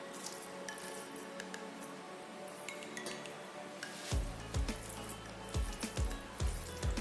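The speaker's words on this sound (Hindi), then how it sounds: "अब ऐसे करके हम सभी आलू जो है उन्हें अच्छे से मैश कर लेंगे।" Boiled potatoes being mashed by hand in a bowl for veg cutlets: soft rhythmic squishing and pressing with occasional light clinks of the dish, close and fairly quiet, growing more regular in the second half.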